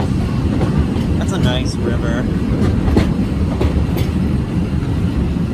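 A Disney World train ride rumbles with rhythmic clattering wheels and a steady low roar; a person speaks briefly over the noise.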